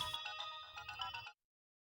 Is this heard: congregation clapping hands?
no